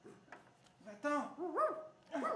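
A lone dog barks and yelps several times up close, with sharp rising calls, and a person's voice is mixed in with the barking.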